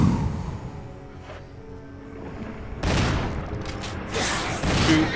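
Gunfire from the video game Resident Evil HD: a faint shot or two early on, then two loud, dense blasts of firearm fire in the back half, each lingering with a broad roar.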